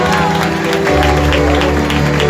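Church congregation clapping during a Hindi-English sermon on the resurrection, loud continuous clapping blended with music-like sustained tones underneath.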